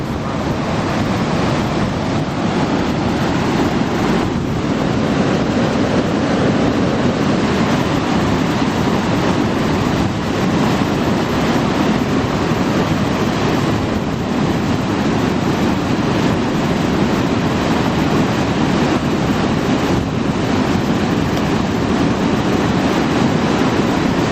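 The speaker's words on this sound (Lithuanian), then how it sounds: "O, tai krioklys." A steady, unbroken rush of water roars continuously, a loud broad wash of noise with no voices.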